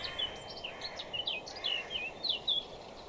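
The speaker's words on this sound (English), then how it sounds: "but I also hear birds singing" Birdsong in Minecraft: a run of short, bright chirps and trills repeating in quick succession over a faint steady background, soft and somewhat distant, with no one talking.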